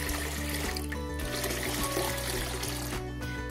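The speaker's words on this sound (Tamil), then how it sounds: "அதில் நம்ம மூணு கிண்ணம் அளவுக்கு தண்ணி ஊற்றிக்கிறேன்." Three cups of water pour into a large cooking pot for a lentil breakfast dish, a steady splashing stream over a constant low musical hum.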